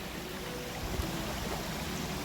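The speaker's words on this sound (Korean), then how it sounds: "저 아래로 계곡물 흐르고 있고요" A mountain valley stream flows below a countryside house, heard as a constant broad rushing wash of water, fairly even and moderately loud, with no voices.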